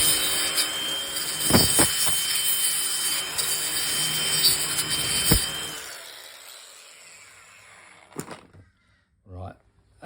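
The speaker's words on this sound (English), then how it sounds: "I'm just going to give that a clean up with a wire brush, an electric grinder" Electric grinder with a wire brush scrubs a rusty radiator cap from a Kawasaki KX60 rebuild, a harsh buzzing rasp for about six seconds with sharp knocks, then stopping, followed by a few faint clicks.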